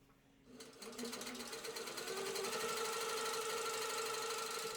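A sit-down sewing machine quilting a twin-size quilt starts up and settles into a steady, fast mechanical whir that holds constant throughout, moderately close.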